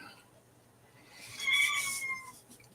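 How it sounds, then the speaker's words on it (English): Two cats argue somewhere off in the background with a faint, wavering yowl that swells and fades over a couple of seconds. "You can hear the cats arguing in the background."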